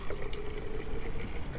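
Very hot water poured onto rolled oats to make oat milk gives a continuous, steady trickling stream, close and fairly loud, with no voices over it.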